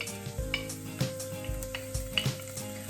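Chopped onions go into a hot pan and sizzle softly while a utensil taps and scrapes against the pan in irregular knocks, close by and fairly quiet, with no talking.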